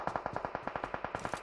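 Rapid automatic gunfire from a weapon in the battle royale video game BGMI, about fourteen evenly spaced shots in a steady burst, fairly quiet, with no talk.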